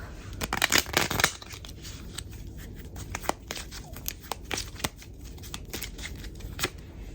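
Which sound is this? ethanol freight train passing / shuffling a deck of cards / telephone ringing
shuffling a deck of cards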